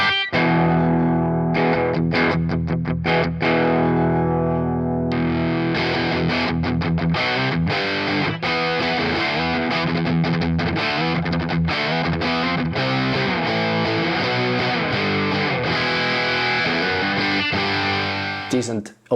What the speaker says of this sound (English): let's go for, you know, just a fairly cleanish tone